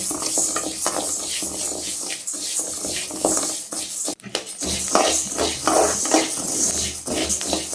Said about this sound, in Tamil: 1 டம்ளர் ஜவ்வரிசி எடுத்துருக்கேங்க. லேசாக வறுத்துக்கலாம்.